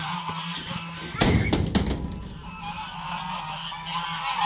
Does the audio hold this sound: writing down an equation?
no